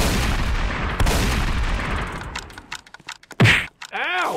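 Gunshots in a Roblox video game, several sharp bursts of game gunfire and thuds over a noisy backdrop, then sparse clicks, a loud boom and warbling electronic game tones.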